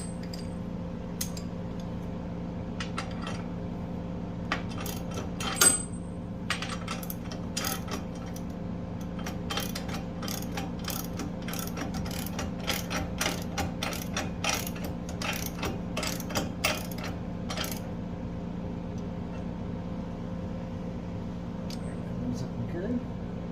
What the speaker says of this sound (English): let's tighten her all up